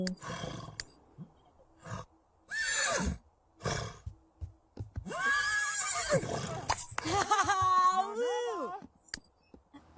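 A unicorn in The Sims 3 gives a loud, drawn-out whinny late on, with wavering tones, after scattered bursts of in-game sound and voices earlier.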